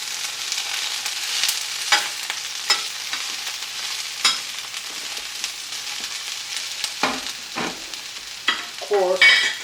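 Broccoli sizzles and crackles in hot oil in a pan, a steady close hiss broken by stirring scrapes and bursts of spatter, with no talking.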